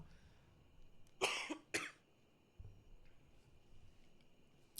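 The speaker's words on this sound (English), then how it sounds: "or it's just a really big cough" A big cough from a person, two loud harsh bursts close together near the start, followed by a faint low thump and quiet room hiss.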